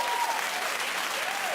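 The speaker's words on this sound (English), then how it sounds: "Keep clapping, everybody." A studio audience at a daytime talk show claps in a dense, steady burst of applause, loud and continuous for the whole moment with no break.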